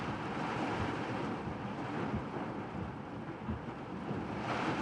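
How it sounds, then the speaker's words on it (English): Heavy rain pours during a nocturnal severe thunderstorm in Central Texas, a dense, steady roaring wash that stays loud and unbroken throughout, with no voices. "Of course, in all this heavy rain"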